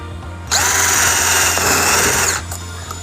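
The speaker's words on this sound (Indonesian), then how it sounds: "Saya menggunakan mata bor yang sama, 1 inci. Speed yang sama, 2 dan mode drilling." A Mollar CDD 585 12V cordless drill with a 1-inch bit, speed 2, whirs up sharply and grinds steadily into wood for about two seconds before cutting off, loud and close over a low background hum.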